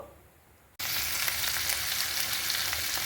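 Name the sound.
cumin and vegetables frying in a pan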